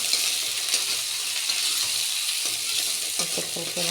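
Potatoes frying in a little oil alongside corned beef give a steady, close broadband sizzle throughout, with a few brief scraping stir sounds near the end; no one speaks.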